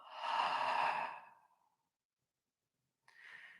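A slow, breathy exhale during a calm meditation session, soft airy rush lasting over a second and fading out, then silence before another gentle breath begins, close and quiet with no talk.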